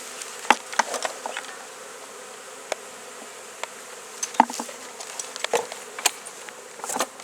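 Honeybees at a hive in spring, with a steady insect hum under scattered sharp clicks and taps close by, and no talking.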